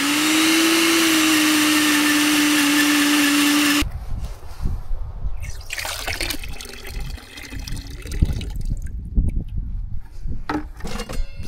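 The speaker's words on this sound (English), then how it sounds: "So I used a little wet dry shop vac and sucked all the water and the little grits and stuff out of the CMU core" A small wet/dry shop vac sucks water and grit out of a cinder block (CMU) core. It gives a loud, steady whining roar for about four seconds, then cuts off abruptly into irregular clattering and handling noises.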